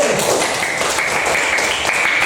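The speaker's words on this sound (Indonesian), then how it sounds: "Tepuk tangan kepada kelompok C." Students in an Islamic religious education class applaud a discussion group, giving a close, continuous patter of many hands clapping with no pauses across the short stretch.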